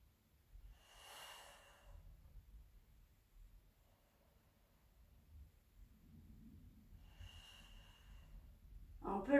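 Breath exhaled during a Pilates rotation exercise: two soft airy puffs several seconds apart, close and quiet, with faint low rumble between and a brief louder sound at the very end.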